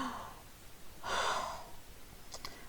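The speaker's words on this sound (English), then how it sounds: "I'm going to take a deep breath" A person draws a deep breath, one long audible inhale in the middle followed by a few small breathy sounds, faint and close with no talking.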